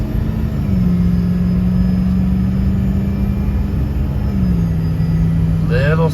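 Boost air leaking from the charge air cooler of a 2006 PowerStroke diesel under load: a steady, loud engine drone with a continuous airy rush, a low tone dipping slightly as the transmission shifts.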